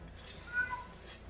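A house cat gives a single short, faint meow that rises and falls in about a second against a quiet room background.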